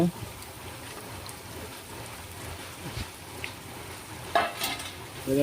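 Broiler chicken meat frying in a pan, a soft continuous sizzle with occasional stirring clatter and a few sharper spatters near the end, with brief voices in the background.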